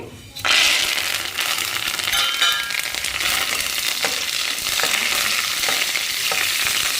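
Dried red chillies and curry leaves dropped into hot oil for a chicken fry burst into a sudden loud sizzle after a brief quiet start, then keep crackling steadily with occasional sharp spatters and light clinks.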